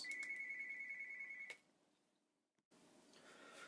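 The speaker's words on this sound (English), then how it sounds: "I wasn't expecting the phone to ring." A telephone ringtone trills steadily with a bright electronic tone for about a second and a half, then cuts off abruptly, leaving near silence before a dull room hum returns.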